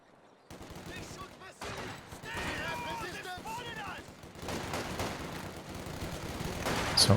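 Massed submachine-gun fire rattles in rapid, dense bursts during a competitive strategy game match. It is fairly loud and continuous, with battle noise and speech mixed in.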